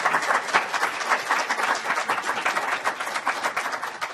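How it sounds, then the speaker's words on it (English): An audience at an awards breakfast gives a dense, steady round of applause, many hands clapping together at close range with no voices. "So I thank you all for that super good round of applause."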